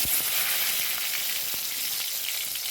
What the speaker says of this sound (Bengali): এবার কড়াইতে দিয়ে দিলাম সর্ষের তেল। তেল গরম হয়ে গেছে। এবার আমি দিয়ে দিলাম ফোড়নের জন্য একটু কালো জিরে, একটা গোটা তেজপাতা